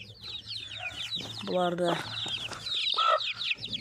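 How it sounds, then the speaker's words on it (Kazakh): Young chicks cheep in a rapid high chatter alongside a hen's clucking, with a couple of louder calls close by, while a person talks over them. "Міне ақтауым балапандары"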